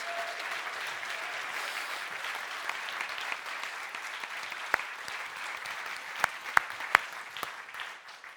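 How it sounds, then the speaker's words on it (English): An audience at the FameLab UK Final 2019 claps steadily throughout, a dense wash of applause with a few sharper individual claps standing out near the end. "Can you give them a big round of applause, please?"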